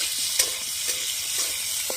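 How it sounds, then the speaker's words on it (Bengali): Fish fries in a pan over a clay and brick stove at an outdoor jungle cooking spot in the Sundarbans, making a loud, continuous hissing sizzle with a few faint clinks. "মাছ ভাজা হয়ে যাচ্ছে।"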